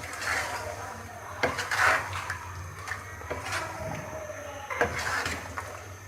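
A spoon stirs raw mango chutney ingredients with vinegar in a metal pot, producing faint scraping and occasional clinks against the sides, irregular and close.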